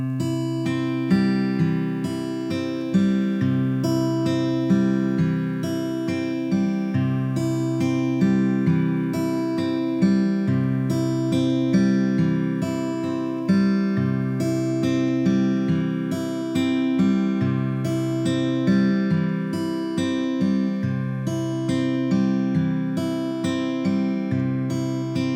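Fingerstyle acoustic guitar exercise with a reversed right-hand pattern, thumb then third, second and first fingers, plucking a steady, even stream of repeating notes over held bass tones, played alone and close.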